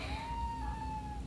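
A cat gives a single drawn-out, fairly faint meow over a low steady background hum.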